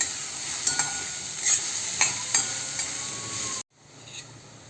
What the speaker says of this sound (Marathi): त्यामध्ये आपण हे 4 मिरचीचे तुकडे घेतले आहेत ते चवीसाठी घालायचे आणि या कांद्याबरोबर तेही परतून घ्यायचे